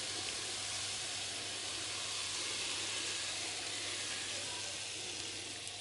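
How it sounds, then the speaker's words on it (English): Teriyaki sauce hits a hot stir-fry pan, setting off a loud, steady sizzle with a broad hissing spray that holds evenly throughout, close up and with no voices. "for the final touch, I'm going to tip over the teriyaki sauce"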